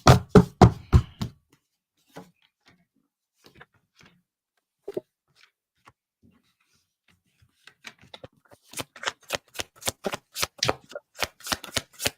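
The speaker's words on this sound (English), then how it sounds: "we'll pull a few cards on Tammy" Tarot cards being shuffled by hand during a reading, with a burst of riffling at the start, a few soft scattered taps in a quiet middle stretch, then a steady run of crisp, close card snaps toward the end.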